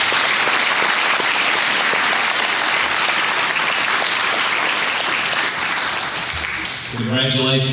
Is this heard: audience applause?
yes